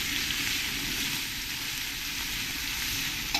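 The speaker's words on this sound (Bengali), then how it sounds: "দেখবেন আমি পেঁয়াজ ঢালিয়ে দিচ্ছি" Onions tipped into hot oil for a village-style chicken curry, giving a steady, dense sizzle of frying that runs unbroken and fairly loud throughout, with no talking.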